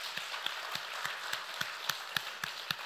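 A church congregation claps for the choir conductor, giving a steady run of even claps close by with no cheering.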